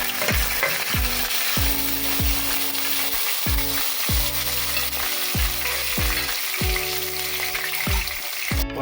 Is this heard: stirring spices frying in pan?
yes